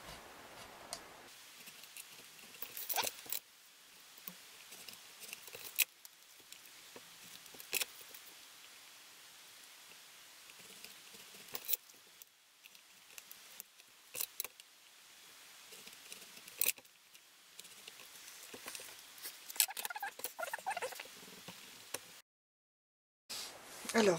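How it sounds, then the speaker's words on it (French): Craft knife slicing along marked lines in card for a tissue box, producing faint scratchy scraping strokes and small taps in irregular bursts, close up and quiet with no talking. "je vais rejoindre avec le cutter les deux lignes"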